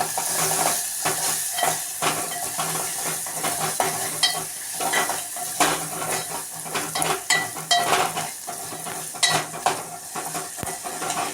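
Cumin and garlic tempering sizzling in hot oil for dal, with steady frying crackle, a spoon stirring and scraping against the pan, and occasional metallic clinks of utensils, close and loud with no talking.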